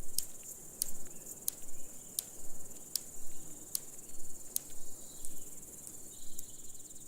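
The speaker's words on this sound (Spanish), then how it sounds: "Los saltamontes de Pantano Grandes son fáciles de reconocer por su canto, que producen a través de golpeteos rítmicos con sus patas traseras." A large marsh grasshopper sings in a marsh setting, a run of sharp, evenly spaced ticking clicks over a steady high insect hiss, close and alone.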